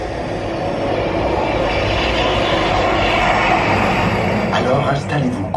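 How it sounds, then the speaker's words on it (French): A jet engine roars in an IMAX cinema sound demo: a loud, sustained broadband rumble that fills the whole stretch without letting up. "Au vrombissement d'un moteur à réaction."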